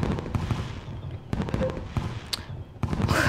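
Fireworks burst in the farming video game Story of Seasons: Friends of Mineral Town, with a string of sharp, crackling pops and booms spread unevenly across a few seconds and a denser crackle at the end.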